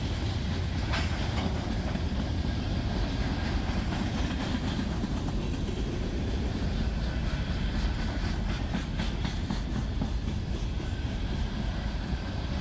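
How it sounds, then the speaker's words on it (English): A freight train passes with former Chicago and Northwestern and Reading and Northern hopper cars, a loud continuous rumble with rhythmic wheel clatter over rail joints, steady throughout. "31T has nice rolling stock tonight as well, with former Chicago and Northwestern hoppers and Reading and Northern hoppers"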